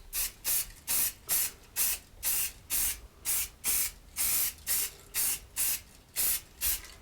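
Spray finish being applied to a redwood sign in a woodshop, in about fifteen short, even bursts of hiss at a steady rhythm, each separated by a brief pause, close and clear with no talking.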